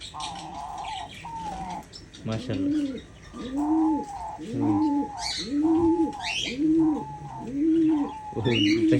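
Diamond doves coo close by in a steady series of soft, rounded, repeated calls, around eight in a row, with a few faint chirps and light rustling between them.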